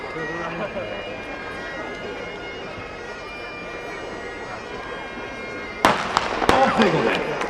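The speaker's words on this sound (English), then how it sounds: "Give them a cheer when we hear the starting gun" Starting gun for a youth 100 yards race at the Braemar Gathering, a sharp outdoor crack near the end followed by another report, with an announcer talking and crowd noise around it.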